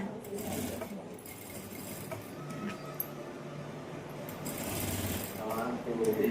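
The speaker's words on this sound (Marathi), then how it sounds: "आपली शिलाई मशीन चांगली आहे ना त्याच्यामुळं उरकते पटापटा" A home sewing machine stitches a blouse in a steady, continuous mechanical whir that stays fairly close and even, with people talking over it.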